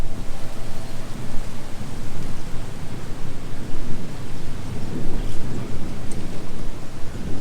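Heavy steady rain with a low rumbling wash of thunder as a storm moves in over a house-building site in the Philippines, a loud continuous roar with no talk.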